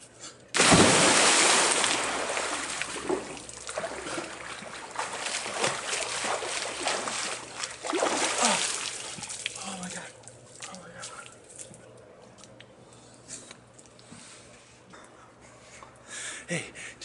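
Someone plunging into and swimming in a cold 52-degree private outdoor pool, a loud close splash followed by churning water and lighter splashes that fade, with a person talking and exclaiming over it.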